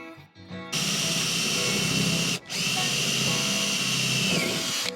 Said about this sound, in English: I'm just drilling out these holes.